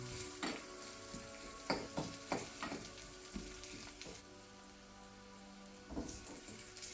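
Spices fry in a pan for a Sri Lankan-style dhal curry, a close, steady sizzle broken by repeated knocks and scrapes of stirring.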